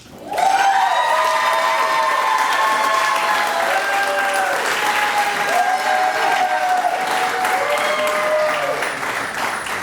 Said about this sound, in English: So let's just give both Joelle and Tracy one more round of applause